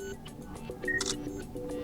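A Realme C21Y phone camera fires its shutter, a brief crisp click-like sound around the middle over a low background murmur, fairly faint and close.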